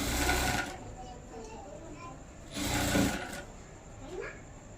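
A sewing machine stitches a folded binding strip along the inside of a round blouse neckline, running in two broad bursts near the start and around the three-second mark, with quieter handling of the fabric in between.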